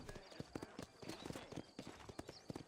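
Horse hooves clip-clopping in Red Dead Redemption, a brisk, fairly even trot of sharp close hoofbeats that carries on steadily throughout, with a voice talking faintly alongside.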